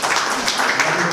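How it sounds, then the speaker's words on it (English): An event audience claps for a guest speaker in a brief, fairly loud burst of applause lasting just over a second. "Great round of applause."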